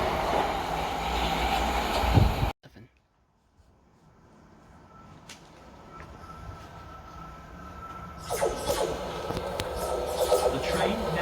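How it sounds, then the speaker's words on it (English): A train at Three Bridges station on a hot summer day: loud rumbling train noise first, an abrupt cut to near silence, then a quieter, gradually building rumble and a rising rail roar toward the end. "The train now approaching platform 2"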